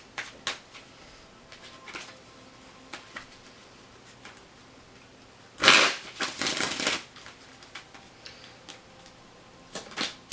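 A deck of tarot cards being shuffled close by, soft papery riffles and taps at first, then a louder burst of rapid riffling in the middle, with no talking.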